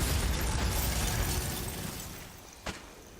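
A Bombarda spell explosion in Hogwarts Legacy bursts with a loud, broad blast that fades over a couple of seconds, followed by one sharp crack near the end.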